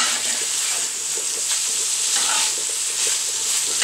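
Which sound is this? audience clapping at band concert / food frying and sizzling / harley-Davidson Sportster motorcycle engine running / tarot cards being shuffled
food frying and sizzling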